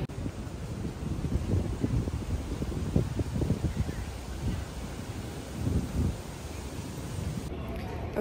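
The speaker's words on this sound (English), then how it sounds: "It's a little windy out." Steady low wind rumble buffets the microphone outdoors in Boston, with gusty swells and faint background activity throughout.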